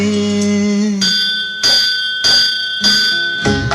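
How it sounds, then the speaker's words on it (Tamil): A bright metallic Ganapati temple bell struck several times in a steady rhythm, each ring overlapping the lingering tone of the last, close and loud. "கணபதி கோயில் மணி ஒலிக்க"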